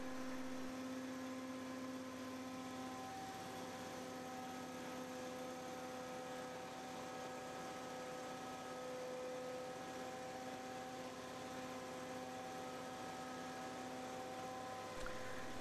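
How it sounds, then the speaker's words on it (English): A roof insulation removal vacuum's motor runs at raised revs for old roof waste suction, giving a constant, fairly quiet droning whine with steady tonal hum and no pauses or voices. "let's increase the revs of the motor and the power will go up to a third"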